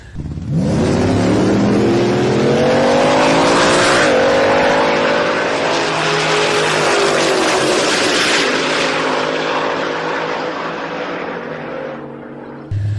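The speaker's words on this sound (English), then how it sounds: "Michael Turner having problems on the starting line, so the Camaro's going to make a single pass" Kaylee Miller's Chevrolet Camaro makes a single drag racing pass. A loud, close engine roar climbs in pitch, holds at full throttle for about ten seconds, then eases off.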